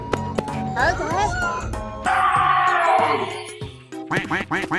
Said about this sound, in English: Quack, quack, quack, quack, quack, quack